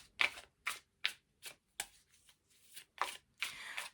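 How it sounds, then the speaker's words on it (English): Tarot cards being shuffled in quick riffling bursts, about eight short crisp flurries separated by brief pauses, close and clear with no talking. "I'm noticing that I'm shuffling the cards differently"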